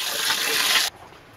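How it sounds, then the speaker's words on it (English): A hose fills a hydroponic tank with house tap water, a bright rushing gush of flowing water close by that cuts off abruptly, leaving near quiet. "I'm filling it from the house water"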